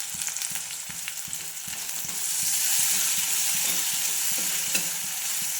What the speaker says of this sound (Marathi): आणि नंतर टाकायचं आपलं टोमॅटो चिरलेलं.